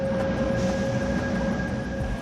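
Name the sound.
subway train at crowded metro station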